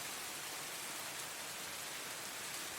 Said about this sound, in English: Heavier rain.